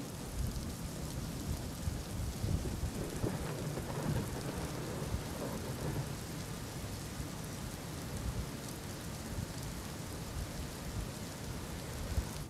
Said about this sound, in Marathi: धरण परिसरात पावसाचा जोर कायम आहे